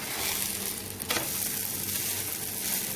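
A moringa-leaf roti fries on a hot pan with a steady, close sizzle and crackle. A short clatter sounds partway through, then the frying continues.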